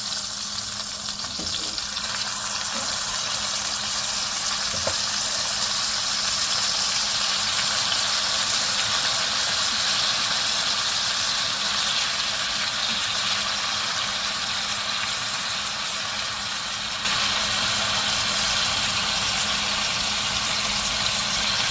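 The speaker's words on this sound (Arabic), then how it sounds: "هو ده الصوت اللي احنا حابين نسمعه، كده معناها ان الزيت سخن كفاية" Hot oil sizzling in a pan before chicken goes in for shawarma, a dense, even, loud hiss holding steady and close for a long stretch without pause.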